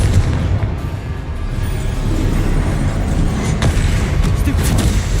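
Confringo blast spells in the Hogwarts Legacy video game, dense booming explosive bursts overlapping one another in a loud continuous barrage, with a voice speaking over the noise.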